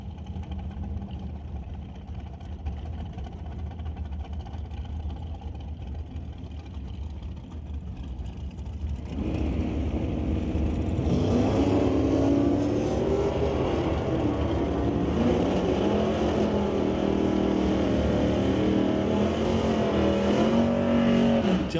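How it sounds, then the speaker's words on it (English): Drag race between a 1972 Chevelle and a 1966 Chevy, engines droning steadily before a louder surge of revving and roaring acceleration takes over, sustained and close for the rest of the run. "The 72 Chevelle goes up against the 66 Chevy out of Maple Ridge."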